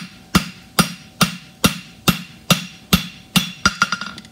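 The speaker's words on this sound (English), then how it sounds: "I'm raking my hammer like this so I can create a nice crisp corner." Close, loud hammer blows strike hot steel in a steady rhythm, about one every half second, then a quicker flurry of lighter taps at the end, as a blacksmith forges a horseshoe.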